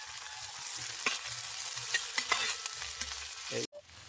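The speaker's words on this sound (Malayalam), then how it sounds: "ഉള്ളി ഇട്ട് കൊടുക്കാം ചിളക്കി കൊടുക്കാം" Crushed onion sizzles in a hot pan and is stirred, a continuous fry hiss broken by light scraping and clinks of the spoon, ending with a brief knock.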